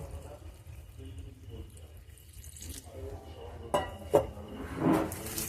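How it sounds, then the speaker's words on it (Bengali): Freshly separated edible flowers being rinsed and squeezed by hand in water, with splashes and clinks of a vessel rising toward the end over a quiet kitchen background. "একটু চটকে চটকে ভালো করে ধুতে হবে, কারণ ফুলের ভেতরে অনেক ময়লা থাকে"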